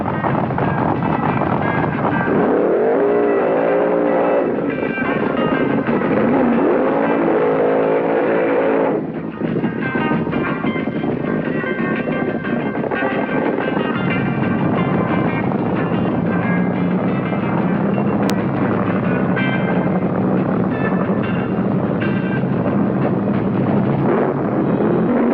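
A 1973 drag race with the Kentucky Moonshiner dragster: loud, continuous engine roar that stays close and dense throughout, with no talk.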